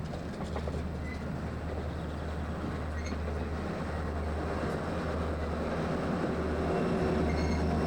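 An Amtrak Capital Limited passenger train pulls out of Cumberland with a steady low rumble and faint wheel-on-rail rolling, heard from on board, continuous and moderately quiet throughout without any voices.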